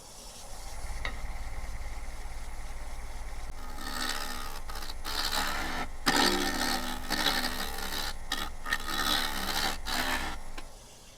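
Gouge cutting a driftwood burl spinning on a wood lathe, first a low steady hum, then from about four seconds rough scraping cuts that start and stop in bursts, fairly close and moderately loud, with no talking.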